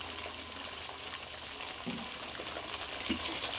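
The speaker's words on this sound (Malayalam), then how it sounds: "എണ്ണ അടപ്പത്ത് വെച്ച് എണ്ണയിലിട്ട് ഒന്ന് വാട്ടുകയാണ്" Lovi-lovi fruits being sautéed in hot oil for pickle, a steady close frying sizzle that runs the whole time, with a couple of soft bumps from stirring.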